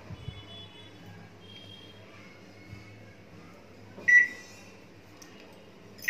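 A microwave oven hums steadily, then a single short electronic beep sounds near the end as it is stopped, with a faint click just before.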